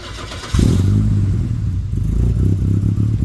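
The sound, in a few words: car engine idling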